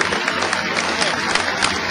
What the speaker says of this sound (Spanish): Y los elegimos por aplauso